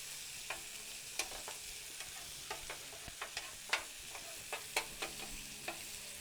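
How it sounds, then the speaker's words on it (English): Steaks searing in butter on a hot griddle, a steady broadband sizzle crackling underneath with frequent sharp pops and spatters scattered throughout, close and moderately loud with no talking. "You want that high heat though to sear those steaks on the raw side"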